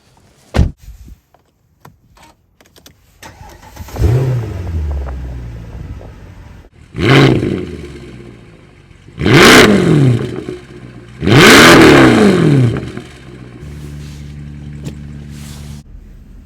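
A Mercedes-Benz car engine starts up, then revs rise and fall in four loud bursts before it settles into a steady, even idle. No one speaks.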